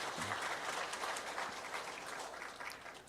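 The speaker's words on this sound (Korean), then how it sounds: "하나님께 크게 영광의 박수 한번 더 돌리겠습니다" Congregation applauding during a New Year's thanksgiving Sunday service at a Korean church, a steady wash of clapping sustained throughout without a break, with no voices rising above it.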